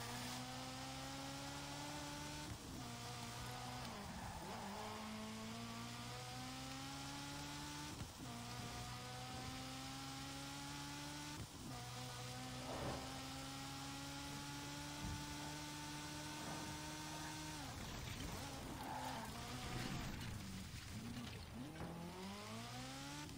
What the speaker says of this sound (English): Dude, this car is fast.